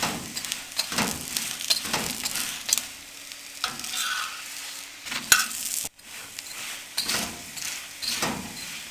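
An aloo paratha, a potato-stuffed flatbread, fries in a pan over a medium flame, giving a steady close sizzle broken by occasional scraping and tapping as it is moved. No one talks.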